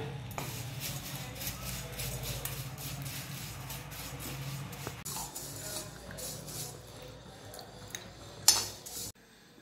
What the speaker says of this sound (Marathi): पोहे भाजून घेऊया